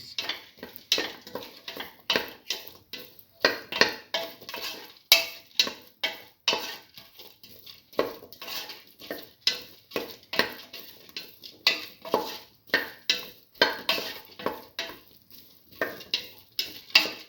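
Red lentils and bottle gourd are sautéed and stirred in a pot, a steady run of close scraping and clinking spoon strokes against metal in quick irregular rhythm, with no talking.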